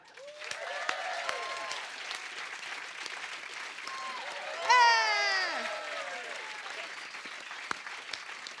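A studio audience claps and cheers to welcome a musician onto a television music show stage, steady applause with a brief louder whoop partway through, fading toward the end.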